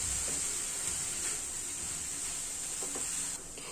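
Bathua (chenopodium) leaves sauté in a hot pan with a steady, close hiss and faint sizzle that runs evenly throughout, with no talking.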